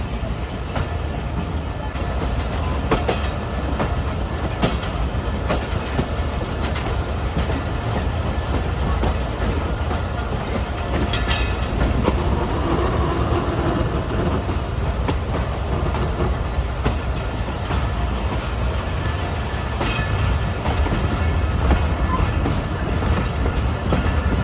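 The Millat Express running on rails, a loud continuous rumble and clatter of wheels heard from aboard the moving train, with faint voices at times.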